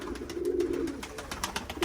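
Racing pigeons arrive back at their loft, steady low cooing running throughout with a few soft wing flutters and faint rustles, close and moderately loud.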